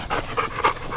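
Dog panting close by on a farm, with quick rhythmic breaths repeating about three times in a second, fairly loud and with no talk over it.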